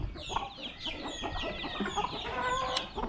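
Chickens cluck and chatter continuously at a farm, several birds close by, with no talk over them.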